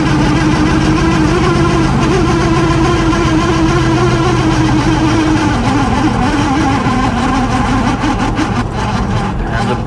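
A 1974 Chevy El Camino with a 327 V8 idling with the idle turned way down, a loud close steady low rumble with a slightly uneven lope and vibration throughout.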